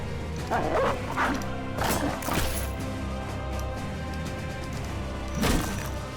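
Barking dogs in a medieval peasant militia battle game, several sharp barks and yips rising out of a steady, busy combat soundscape.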